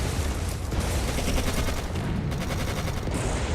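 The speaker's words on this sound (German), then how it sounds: "Man schießt auf uns." Rapid, continuous gunfire in the video game Codename: Panzers Phase One crackles in dense bursts, loud and harsh, filling the whole stretch without pause.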